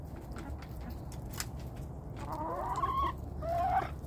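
Backyard hens cluck and murmur nearby, with short throaty calls building toward a couple of louder squawking notes near the end over a steady outdoor background.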